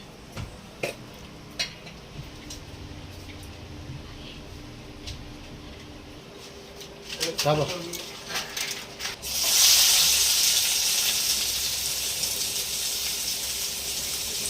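Onion fries in a pan: after scattered clinks and taps of utensils, ingredients drop into hot oil and a loud, steady sizzle takes over and continues to the end.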